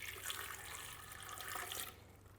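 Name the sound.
pouring one cup of water into a blender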